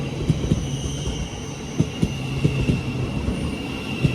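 A Thameslink Class 700 train, unit 700 140 leading, rolls along with a steady rumble, rhythmic wheel clicks over rail joints and a faint high whine.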